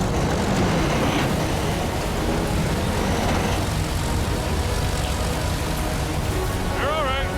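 A heavy tow truck's engine roars under throttle during a difficult highway recovery, a loud, steady, rumbling drone that fills the whole stretch, with voices talking over it.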